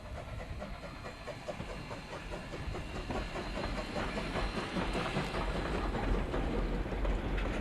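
Vintage railway train C847 runs on a day excursion to Hamilton with a steady, loud rumble and rhythmic clickety-clack of wheels over rail joints that grows slightly louder. A hiss runs underneath and no one speaks.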